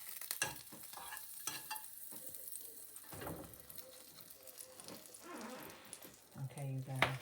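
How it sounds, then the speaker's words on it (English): A grilled cheese sandwich fries in butter in a pan after being flipped, giving a quiet, close sizzle with scattered clatters. A voice is briefly heard near the end. "I'm gonna put a little bit more butter on it, and I'm gonna flip it."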